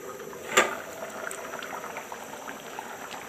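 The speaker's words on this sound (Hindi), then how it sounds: "चावल को बॉयल आना शुरू हो गया है" Rice boiling in a covered pot, a soft, steady bubbling simmer with one brief louder clink near the start, close and alone.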